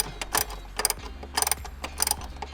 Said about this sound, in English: Just removing the two 12mm bolts out of the clutch line support bracket.